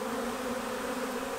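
A honeybee swarm buzzes in a steady, continuous drone with no breaks, heard alone at moderate, even loudness.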